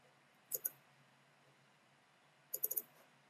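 Computer mouse clicking in a quiet room, a close double click followed two seconds later by a quick run of three or four more light clicks, with no talk.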